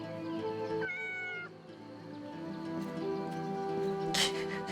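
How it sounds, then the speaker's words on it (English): A pet cat named Robin, curled up asleep on a desk, gives a single clear meow near the start, close and fairly loud, over steady game music. "Robin just meowed."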